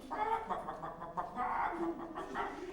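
A person's voice imitates a hen, clucking in a string of short, uneven bursts, close by against a quiet background.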